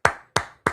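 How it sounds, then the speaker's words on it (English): Three crisp, evenly spaced hand claps ring out close and alone in quick succession, a light, deliberately sparse golf clap. "That's a golf clap."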